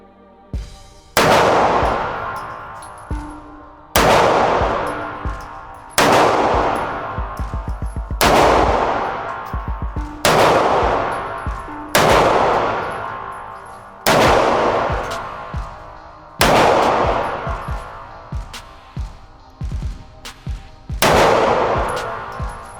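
A SIG P365 pistol fires repeated shots at a 5-yard range, loud sharp cracks spaced a couple of seconds apart, each followed by a ringing outdoor decay, about ten rounds in all.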